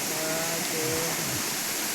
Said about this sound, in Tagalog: May ilog kami.